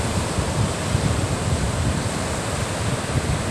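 Steady roar of sea waves washing in, continuous and fairly loud, with wind rumble and no voices.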